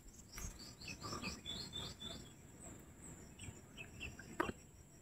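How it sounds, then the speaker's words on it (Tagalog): Bird chirps and tweets outdoors, a series of short high calls repeating through the first half and again later, fairly clear over a low rustling background, with no talk. "Ibon, oh."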